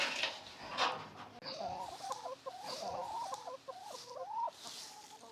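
Backyard chickens clucking in a series of short, warbling calls at close range, with a rustle and a brief louder noise at the start; no one speaks.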